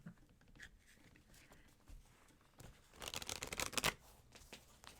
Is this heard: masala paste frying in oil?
no